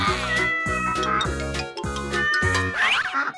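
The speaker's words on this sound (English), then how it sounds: "Cat." A cat meows repeatedly in a sequence of animal sounds, several loud, close meows and drawn-out caterwauling cries in quick succession over a musical backing.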